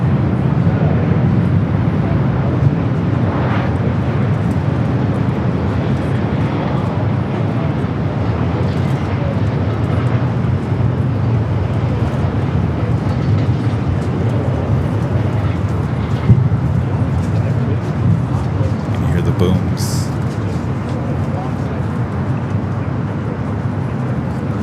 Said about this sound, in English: We do have on the bond that Dreamliner heading back to Tokyo Haneda, now heading up for north side at takeoff on 24 left.